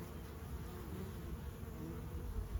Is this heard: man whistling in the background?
no